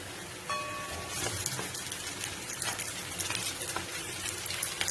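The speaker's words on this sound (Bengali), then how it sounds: "এবার আমি এখানে দিয়ে দেব ধুয়ে রাখা চিকেনটা।" Washed chicken, about 300–400 grams, dropped into a pan of browned fried onions, setting off a steady, close crackling sizzle that runs without a break and stays fairly loud.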